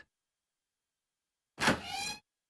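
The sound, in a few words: door opening in video game 999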